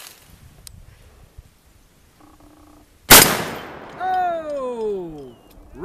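A Big Horn Armory Model 89 lever-action rifle fires a single sharp, loud blast outdoors, followed by a long ringing decay. A cat-like whine or voice rises afterward, and faint handling noises come before the shot.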